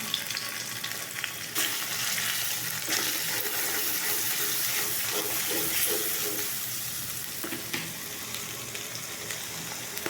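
Spice pastes of ginger, cumin, turmeric and chili fry in a pan for hilsa fish with spinach, a continuous close sizzle with occasional utensil scrapes and a few sharp knocks.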